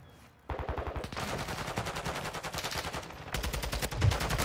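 Rapid automatic rifle fire in Call of Duty MW2 ranked multiplayer, dense repeated bursts of gunshots running nearly continuously after a brief quiet start, loud and close with game audio behind.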